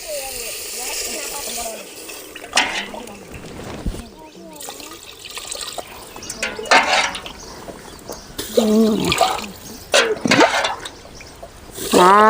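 Water pours and splashes into a cooking pot for rice in uneven bursts, with a voice talking over it.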